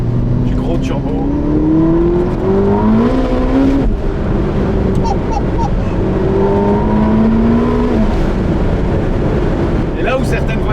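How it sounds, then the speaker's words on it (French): A Ferrari SF90 Spider, a 1000 hp turbocharged hybrid, revs up loudly and close by, its engine note climbing in pitch through repeated accelerations while someone talks over it. "si tu mets pied dedans, c'est plus que du gros turbo"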